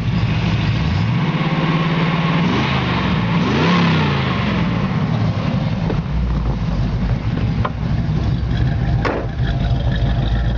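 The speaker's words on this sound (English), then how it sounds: "It's got a really nice sounding exhaust." A 1972 Camaro's loud exhaust roars through several revs, with sharp rises and falls, before dropping back to a deep rumbling, loping idle.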